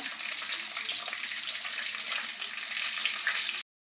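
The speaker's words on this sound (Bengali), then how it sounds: "গোটা গরম মশলা ইয়ে ভাজা হয়ে গেছে" Whole garam masala, dried red chilli and bay leaf fry in hot oil for a prawn pulao, giving a loud, steady, close-up sizzle that cuts off abruptly just before the end.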